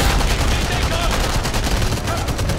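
Rapid automatic fire from an MP-42 gun in the video game Enemy Front, a dense, continuous burst of shots, loud and unbroken throughout.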